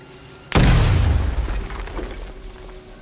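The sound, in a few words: explosive destroying a wall in the video game Batman: Arkham Knight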